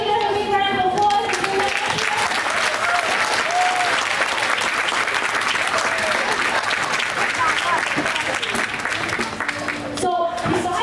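A room full of people at a school board meeting breaks into sustained, loud applause, clapping steadily for about ten seconds before it begins to thin out near the end.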